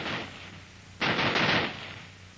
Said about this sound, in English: This cycle will be repeated, and the rifle will continue to fire as long as the trigger is held back.